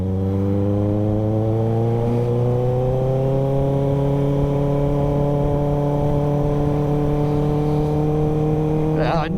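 A Kawasaki ZX-6R motorcycle accelerates hard and steadily, its engine note climbing smoothly through the revs, loud and close throughout.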